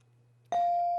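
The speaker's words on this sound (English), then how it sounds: "You heard the bell." A single bell ding ends a round of a high school quiz show, struck once and ringing on clearly after a near-silent moment.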